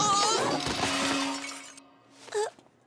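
Drinking glasses shattering in an animated cartoon scene, a loud burst of breaking glass with tinkling shards that fades out, then a brief bright clink.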